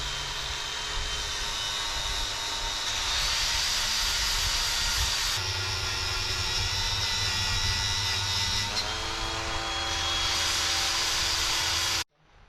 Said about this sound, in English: I'm using a carbide tip with an air tool